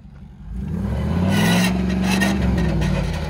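A Cadillac fitted with a Dodge engine revs hard during a burnout with one wheel spinning, producing a loud, sustained engine roar that rises and holds close by.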